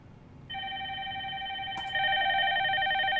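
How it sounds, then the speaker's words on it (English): A desk phone rings on an incoming call placed to record a FreePBX greeting, steady electronic trill tones starting after a short pause and growing louder, with no voices. "My phone's going to ring"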